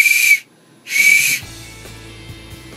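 Two short, shrill toots on a 3D-printed whistle with a rattling ball, loud and close, a brief gap between them, followed by faint low knocking and handling noise.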